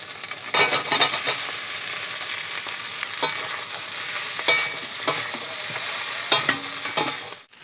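Potatoes and crab pieces sizzle steadily in a pan of hot oil with chilies, broken by repeated scraping stirs of a spatula, fairly close and with no talking.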